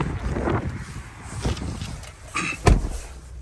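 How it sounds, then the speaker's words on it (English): Wind buffeting a microphone outdoors beside a Ford Explorer ST fitted with an MBRP exhaust, a steady rumbling roar with irregular gusty thumps and a few clunks. "Hopefully y'all can even hear me, it's windy."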